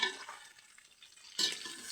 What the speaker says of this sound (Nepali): त्यही भएर यहाँ म भुट्दैछु